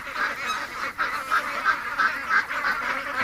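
Ducks honking outdoors on a hot evening, a steady run of nasal honks and quacks close by, overlapping one another without any talking.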